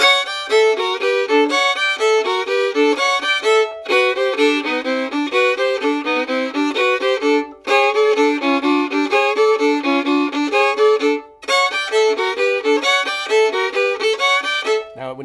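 A fiddle plays a quick, continuous two-bar hot lick alone, bright bowed notes running in phrases with brief pauses between them.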